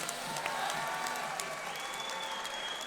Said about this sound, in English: let's give both of these fighters a big round of applause